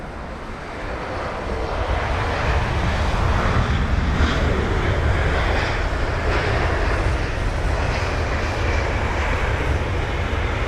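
Scandinavian Airlines Airbus A320ceo at London Heathrow, a steady broadband jet engine roar that swells over the first couple of seconds and then holds loud and constant throughout.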